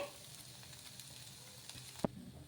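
Batter cooks in a pan over a high flame with a soft, steady sizzle, quiet and continuous, broken by a single sharp clink near the end.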